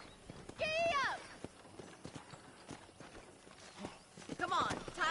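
A horse in Red Dead Redemption clip-clops at a trot, with steady hoofbeats under game sounds, two whinnies and faint voices.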